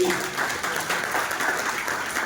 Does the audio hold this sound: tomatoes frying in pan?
no